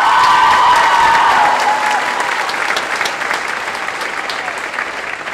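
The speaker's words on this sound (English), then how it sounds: "feel free to clap for them name by name" Applause at a high school spring concert as seniors are named, loud full-crowd clapping that starts strong and slowly thins and softens over several seconds, with a faint tonal ring lingering in the hall early on.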